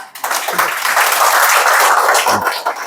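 Audience applause at a book concert breaks out after a speaker stands to talk, a dense burst of clapping that swells quickly and holds steady for a few seconds before thinning out.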